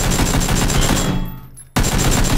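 Video game gunfire: loud, rapid machine-gun bursts at close range, cutting out briefly to a fading tail before the rapid fire resumes abruptly.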